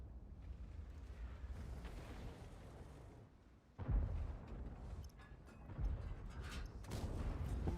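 A shell slams into tank armor in a tank video game, one sharp heavy impact standing out from a continuous rumbling battle din, with further muffled booms after it.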